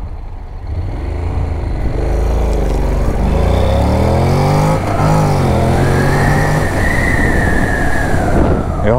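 Motorcycle engine revving hard as the rider accelerates flat out from a standstill toward 100 km/h, the pitch climbing through gear changes with heavy wind noise, loud and close throughout.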